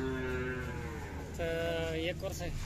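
A young bull, about a year old, lows loudly at a village livestock fair in Karnataka. Two long, drawn-out moos sound close by over the busy background murmur of the crowd.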